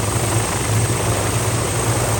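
Steady engine drone of the Goodyear blimp in flight, a loud continuous hum with a low buzzing tone and no breaks, heard alone without talk.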